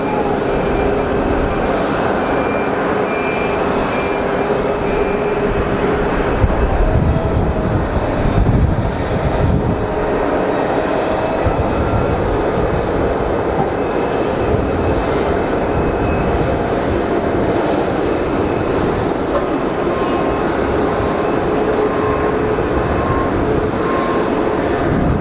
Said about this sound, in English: That's very Cessna looking as well. Some variant of a Citation, I would expect.